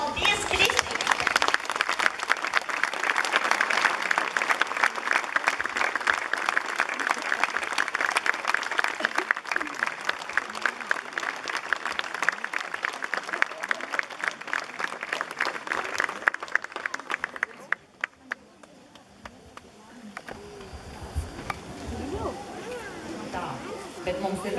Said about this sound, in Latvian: lai skan vēl aplausi